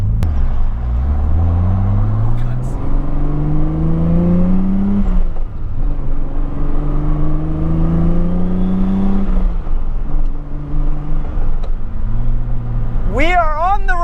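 A Nissan 240SX with a swapped 2JZ engine accelerates along a street, its note rising through repeated gear pulls, heard loud from inside the car with people talking over it.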